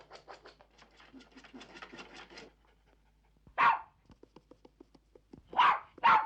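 A small dog scratches in a rapid run of quick rasping strokes, then gives a few loud, close barks separated by quieter tapping and scratching.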